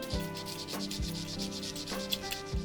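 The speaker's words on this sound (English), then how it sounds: "now everything goes into the sanding basket, and I'll take it outside to sand." Rhythmic scratchy strokes of hand-sanding 3D-printed plastic parts, repeated back and forth at a steady pace, close and fairly quiet, outdoors.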